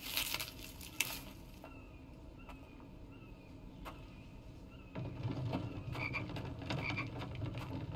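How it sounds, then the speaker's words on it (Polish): Frogs croak in a rhythmic, layered chorus in the video game The Infected, steady through the clip and swelling louder and denser in the second half, with a few sharp clicks over the top. "Żaby."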